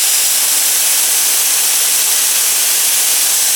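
Karcher cordless pressure washer fitted with a 3.0 nozzle and an MTM hose, spraying as a steady, broad hiss that stays loud and unbroken throughout with no voices.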